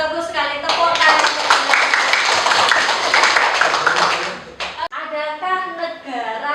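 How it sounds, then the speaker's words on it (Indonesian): Students in a classroom clap together in a loud, dense burst of hand clapping lasting several seconds. A teacher's voice speaks before and after it. "Bagus sekali, tepuk tangan."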